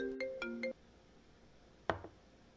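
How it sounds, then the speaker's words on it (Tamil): A phone ringtone plays three short, bright melodic beeps in quick succession, followed by a brief clatter, then a quiet room. "ஃபோன் அடிச்சிச்சு"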